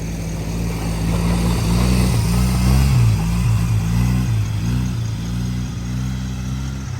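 Small kids' vehicle engine held in first gear, steady mid-pitched drone with gentle rises and falls in revs, close and continuous for several seconds.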